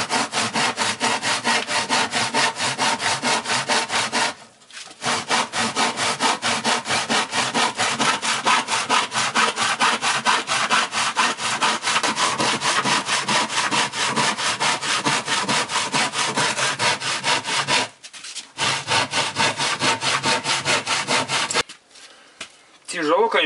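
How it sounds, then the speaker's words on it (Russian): A short hand saw cuts through wood in fast, steady back-and-forth strokes, loud and close, with two brief pauses between runs of rasping. "Ну, начали пилить коротенькой ножовкой."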